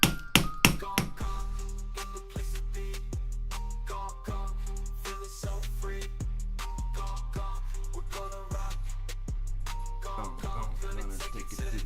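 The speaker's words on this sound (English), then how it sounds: "Glad I went to get that hammer." A hammer taps camping gear into place with a steady series of sharp, close metallic strikes at roughly even intervals, over a low background hum.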